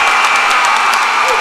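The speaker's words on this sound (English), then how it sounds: "the home crowd making some noise" A home crowd cheers and shouts at a high school basketball rivalry game in a gym, loud sustained roaring with whoops, heard under a commentator's voice.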